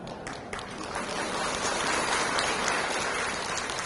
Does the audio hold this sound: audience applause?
yes